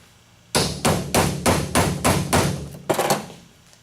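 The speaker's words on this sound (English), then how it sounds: "Just hammer it on." A hammer pounds a nylon piece onto a Paslode battery adapter braced against something solid, roughly nine sharp, evenly spaced strikes close up, with a brief pause before the last few blows.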